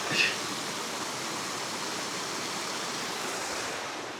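Lesmurdie Brook flowing through a gully in a national park, a steady broadband rush of running water that holds an even level throughout without pause, with no voices over it.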